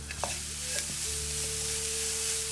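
Carrots are stirred and fried in a pan with a continuous close sizzle, a few light knocks of the spoon early on and a faint steady tone running underneath.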